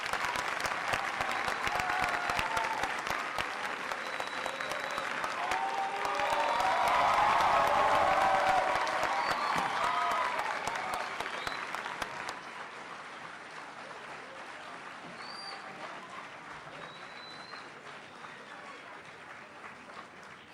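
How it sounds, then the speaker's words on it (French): An audience at a debate final cheers and applauds as a team enters, sustained clapping with shouts and whistles that swells in the middle, then thins to lighter, continuing applause. "J'appelle l'équipe du Tchad sous vos ovations"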